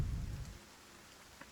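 Rain falls in the Battle Brothers video game as a soft, even hiss, with a low rumble fading out early, steady and fairly quiet throughout.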